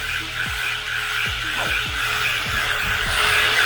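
A ZLL SG918 MAX brushless RC car spins skidding donuts, with repeated short tire squeals and revving bursts at a steady rhythm over a constant motor whine, close by.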